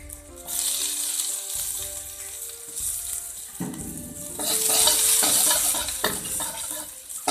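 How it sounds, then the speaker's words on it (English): Ginger, garlic and spring onion stir-fried in a hot pan, giving a steady sizzle with scraping stirs and clatter that swells louder midway, close and without talk. "Add some ginger garlic, some spring onion,"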